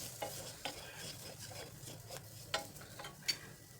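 Ground cumin, coriander powder and turmeric are stirred together in a pan, giving faint, soft scraping and stirring strokes with a few small sharp clicks, close by and with no talking.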